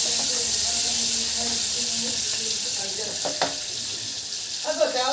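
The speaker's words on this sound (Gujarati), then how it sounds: "સરસ તેલમાં સતળાઈ ગયા છે." Gunda berries sautéing in oil for an instant pickle, a steady soft sizzle and hiss with occasional clinks and scrapes of stirring near the end, no speech.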